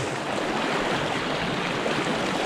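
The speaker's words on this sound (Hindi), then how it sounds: "पानी का बहाव देखो भाई।" Fast-flowing river water rushes in a dense, steady wash of noise, even and unbroken throughout, with no voices over it.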